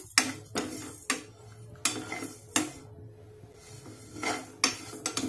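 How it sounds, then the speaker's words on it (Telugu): A spoon scrapes and clatters against a pan in repeated bursts while vermicelli fries over high flame for payasam, with only a faint sizzle beneath the close metallic strokes. "అంతా మంచిగా ఫ్రై చేసుకోవాలి. ఇలా ఫ్రై చేసుకుంటూనే ఉండాలండి."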